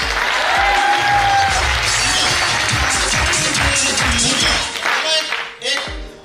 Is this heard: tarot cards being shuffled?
no